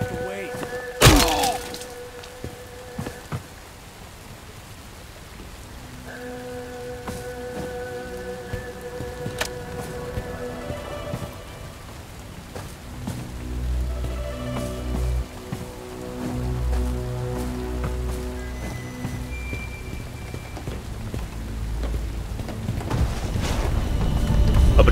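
Rain in Bright Memory Infinite, a steady wash of falling water under game music and scattered impacts, with a voice speaking over it and the downpour building louder toward the end.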